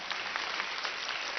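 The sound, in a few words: schoolchildren applauding for their school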